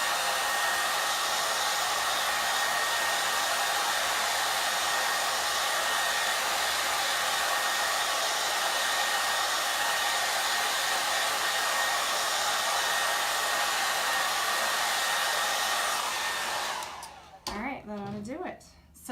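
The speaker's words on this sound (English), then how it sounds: "I'm going to blast it with cool air real quick just to make sure the surface isn't hot." A heat tool blows a steady, loud stream of cool air across a chalk-paint craft surface for about seventeen seconds, then cuts off, leaving a brief tail of quieter handling sound.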